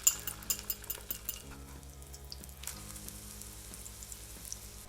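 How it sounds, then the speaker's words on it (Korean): An egg frying thickly in olive oil in a pan over medium-high heat gives a faint, steady sizzle, with a few clinks of a utensil against the pan near the start. "계란을 거의 튀기듯이 약간 두껍게 익히겠습니다."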